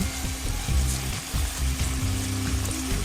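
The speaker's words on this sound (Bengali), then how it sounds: "এখন টক দই দিয়ে ভালোভাবে মশলাটা কষিয়ে নিব যতক্ষণ না উপরে তেল ভেসে উঠছে।" Spice paste and sour yogurt fry in a pan for a kofta curry, a loud close sizzle with rhythmic thumps and scrapes of stirring throughout.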